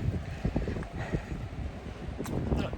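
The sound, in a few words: heavy rain and wind outdoors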